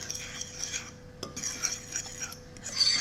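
A fork whisks flour and salt together in a bowl, giving soft, quiet scraping and light clinking against the sides, close and alone with no talk.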